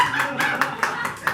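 An audience at a stand-up comedy show claps in a quick, even rhythm, with a few sharp hand claps standing out over a brief stretch.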